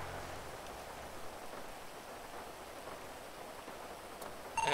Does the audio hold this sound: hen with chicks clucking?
no